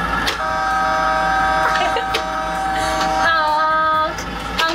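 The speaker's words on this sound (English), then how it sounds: "Let's honk the horn." A front loader's horn honks in several loud, close blasts, each a sustained tonal blare separated by short gaps, with engine noise underneath.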